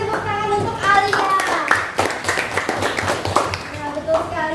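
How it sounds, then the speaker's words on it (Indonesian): Classroom applause for a student during a lesson, a steady patter of hands clapping under a child's and teacher's voices. "Berikan tepuk tangan untuk Alia"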